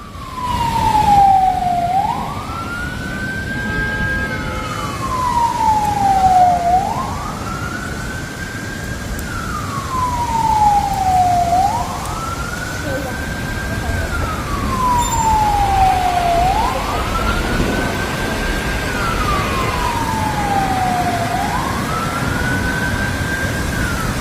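An ambulance siren wails in steady, repeating rising-and-falling sweeps, loud and close, over a constant rumble of traffic and a passing truck during storm and flood damage in Türkiye.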